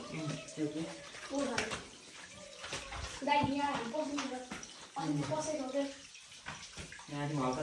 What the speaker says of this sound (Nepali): पानी बगिरहेछ कलकल कलकल